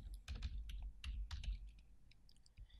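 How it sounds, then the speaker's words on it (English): Typing on a computer keyboard, close and faint, with a scatter of irregular key taps over about three seconds. "I'll type in After Effects."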